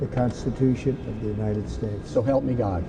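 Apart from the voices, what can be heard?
No everyday noises stand out.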